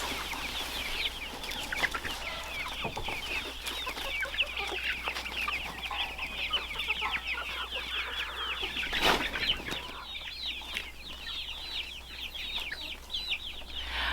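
A flock of chickens clucks and chatters continuously outdoors on pasture, a dense steady murmur of many birds at moderate distance.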